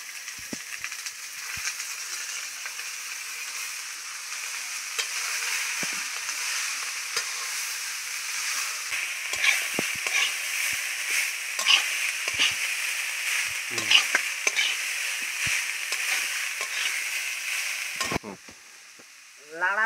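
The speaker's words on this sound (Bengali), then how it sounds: "এবার কুচিয়ে রাখা কফিগুলো দিচ্ছি।" Chopped cabbage sizzles in a hot pan with ginger and whole spices, a steady frying hiss with occasional clinks and scrapes of stirring, fairly close and continuous until it cuts off near the end.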